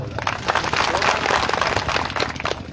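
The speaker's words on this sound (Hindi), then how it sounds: "सबके लिए तालियां बजा लो।" Audience applause at a World Tribal Day gathering in a large pavilion tent, dense clapping that holds steady and loud for about three seconds, mixed with crowd noise.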